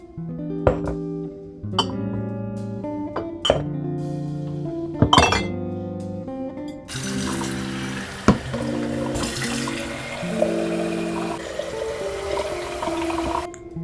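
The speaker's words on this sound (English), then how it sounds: "Okay, so now I'm going to get some jars, fill them up with water, and put the monstera cuttings in it." Glass jars clink sharply several times against each other and a sink, then a tap runs steadily, filling them with water as the pitch of the pouring rises.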